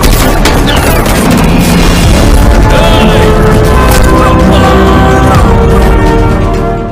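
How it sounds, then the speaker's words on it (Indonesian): Gunfire in a film shootout between Italian mafia and French police: a loud, dense barrage of shots and booms with a heavy mix of effects and score, sustained throughout. "kejadian baku tembak antara mafia Italia dan polisi Prancis pun tak terelakkan"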